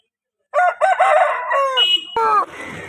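A heavy-bodied rooster crows loudly nearby at a Sunday rooster market in Vijayawada, in a long strained call, followed by another shorter crow and a brief squawk.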